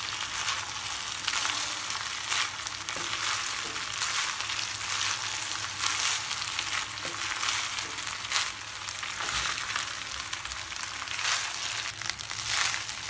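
Egg corn fried rice being stirred in a hot pan, a steady broadband sizzle and frying crackle running continuously throughout with occasional scraping and tossing noises, no voices.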